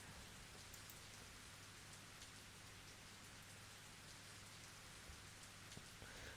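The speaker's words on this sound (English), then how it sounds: "I couldn't hear anything more than the rain crashing down in the mud" Steady rain pours down into mud in the Higurashi visual novel, a dense, even hiss of drops that goes on unbroken with no voices.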